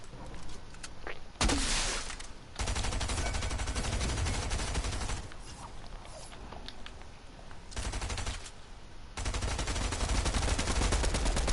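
Rapid automatic gunfire in the video game Fortnite, dense bursts of shots starting and stopping in several loud stretches across the clip, with brief quieter gaps between volleys.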